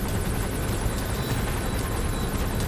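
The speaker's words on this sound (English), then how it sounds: "So I think the helicopter leaves soon." A helicopter in Metal Gear Solid 5 makes a steady, dense rotor and engine roar that holds at one level throughout, with no voices over it.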